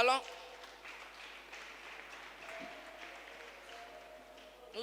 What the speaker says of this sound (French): Sous vos acclamations bien nourries,